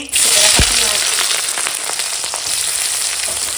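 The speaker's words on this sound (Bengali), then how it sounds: "হালকা ভাজা হয়ে গেছে" Steady, loud sizzling of chopped onions and green chillies frying in a hot pan, with a few soft scrapes and clinks, no voices.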